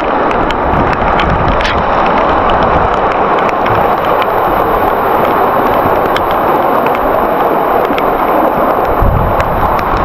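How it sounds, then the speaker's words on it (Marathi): Heavy rain pours near the Bhaskargad fort trail, a loud, constant dense hiss that fills the whole stretch without letup. "जोरात पाऊस चालू आलेला आहे."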